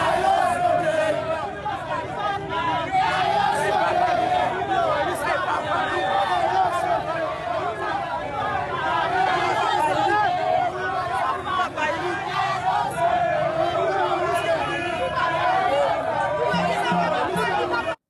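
A dense crowd fills a street, with steady loud chatter and overlapping voices forming a continuous hubbub throughout, occasional shouts rising above the babble.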